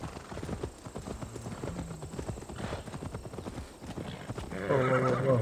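Horse hooves clip-clopping at a fast gallop in Assassin's Creed Valhalla, rapid rhythmic beats running throughout, with a horse whinnying loudly near the end and faint game ambience beneath.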